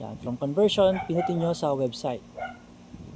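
A dog in the room gives a few short yips and whimpering barks, close by and mixed in with someone talking.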